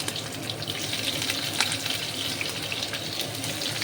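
Bay leaf and whole cumin seeds sizzle steadily in hot mustard oil as the tempering for a prawn curry begins, a close, continuous crackling hiss with no voices.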